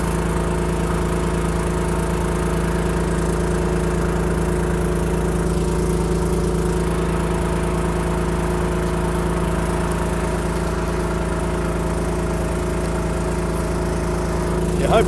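A Mack R600 truck engine idles with a steady, even, low throb, close and alone with no talking.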